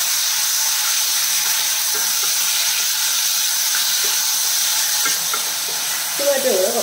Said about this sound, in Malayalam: ടൊമാറ്റോ കൂടെ കുറച്ച് വഴണ്ട് വെക്കണം.